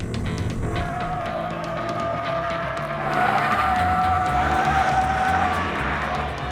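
A race car spins out on a cone course, its tires skidding and squealing in a long continuous screech over the engine, growing louder midway, with faint crowd noise in the background.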